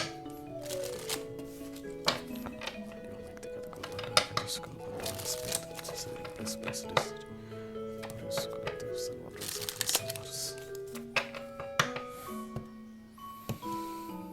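Oracle deck cards being shuffled by hand during an Aquarius tarot-style reading, a steady run of soft papery riffles and slaps heard alone at close range, with faint clinking accents and tonal background music throughout.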